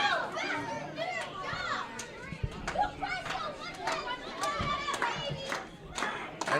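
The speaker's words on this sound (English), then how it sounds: "this crowd trying to will NXZN on" Wrestling crowd at an SWF indoor show yelling and cheering for NXZN, a dense, rowdy wall of voices with high excited shouts and bursts, loud and continuous throughout.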